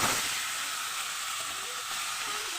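Cut potatoes frying in leftover fish oil give off a steady, close sizzle that runs unbroken and fairly loud, with no voices over it.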